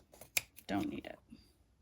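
Scissors snipping off an extra bit of fabric while sewing a small Tribbiani Traveler bag, a few quiet close cuts and clicks mixed with soft speech.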